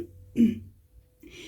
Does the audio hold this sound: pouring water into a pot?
no